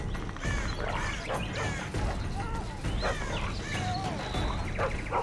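Dog barks and yelps in The Witcher 2 video game, a run of sharp repeated barks over dense combat noise and clanks throughout.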